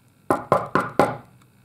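Four sharp, evenly spaced knocks on a door, close and clear, with a brief quiet tail after the last rap.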